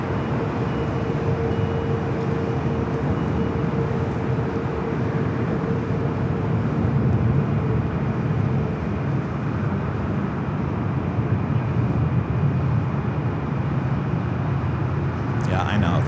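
A Boeing 787-9 Dreamliner jet at LAX airport produces a steady, loud broadband engine roar that persists throughout, with a faint tonal whine.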